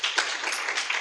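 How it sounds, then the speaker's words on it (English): A conference audience applauds steadily, a dense wash of many hands clapping throughout, moderately loud with no voices standing out. "Round of applause to Benza."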